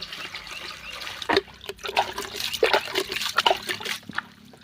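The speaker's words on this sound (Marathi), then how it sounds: "थोडासा भाजीपाला आता हा धुवून घेऊया आपण" Home-garden vegetables, including brinjals, are rinsed by hand in water, with close splashing, sloshing and trickling in irregular bursts.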